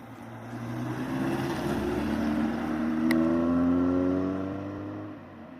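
A Citroën CX 22 TRS with its 2.2-litre four-cylinder engine running steadily, a low droning hum that swells slightly as the revs rise mid-way, then settles again, with no voices.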